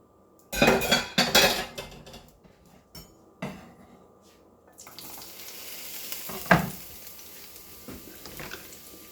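A pan is handled and oil begins frying, with several loud clanks and scrapes of cookware early on, then a rising sizzle joined by occasional knocks and stirring.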